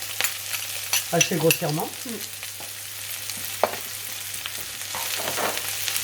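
Chopped garlic and onion sizzle and are stirred in a pan for ojja with merguez, soft scraping strokes over a quiet frying hiss, with someone speaking French briefly at the start.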